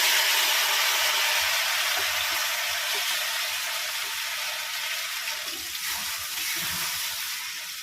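Jackfruit seed paste dropped into hot oil with black cumin seeds in a home kitchen, giving a loud, continuous hissing sizzle up close that slowly eases off over several seconds, with no talking.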